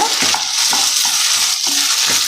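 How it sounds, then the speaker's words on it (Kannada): Potatoes being stir-fried in a pan for vegetable hakka noodles: a steady, close oil sizzle broken by regular scraping stirs every half second or so. "ಇನ್ನು ಫ್ರೈ ಆಗಲಿ. ಅಂಟಬಾರ್ದು ಅಂತ ಕೈ ಆಡ್ತಿರೋದಷ್ಟೇ"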